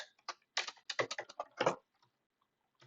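Code is typed on a computer keyboard in quick bursts of close, crisp key clicks, then trails off into a few isolated taps and quiet, with no talk.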